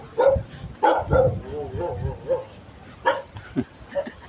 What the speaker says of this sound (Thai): อย่าเห่าดิ